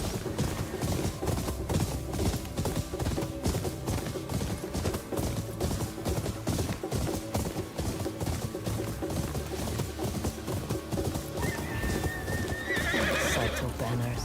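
A horse's hooves clip-clop at a gallop and it whinnies in the video game Ghost of Yotei, mixed into a dense, continuous game soundtrack and effects.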